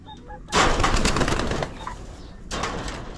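Pigeons of the decaled brown variety, with bursts of wing flapping and low cooing at close range, two loud flurries separated by a quieter stretch with faint calls.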